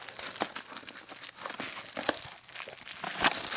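Plastic shrink wrap crinkles and tears as a DVD is unboxed, with close, busy rustling and crackling that goes on without a break and no voices.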